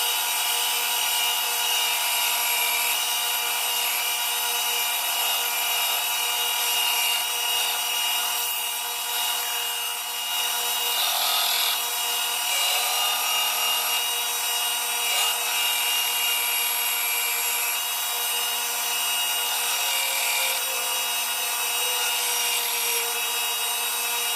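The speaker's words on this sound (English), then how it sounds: "the handle has been roughly shaped, so now begins hand sanding" Steady, even rasping of sandpaper worked by hand over a roughly shaped wooden knife handle for a Japanese bunka knife, continuous and fairly close, with a faint background hum and no talking.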